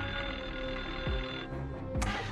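A telephone rings in a kidnapping reenactment, the kidnapper's first call arriving: a sustained electronic ring, close and clear, with a couple of soft thumps near the end.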